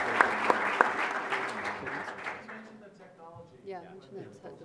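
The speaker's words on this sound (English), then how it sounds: "let's have a round of applause for all of our third prize winners" An expo audience applauds prize winners with a dense burst of clapping that fades over a few seconds while a voice starts talking beneath it.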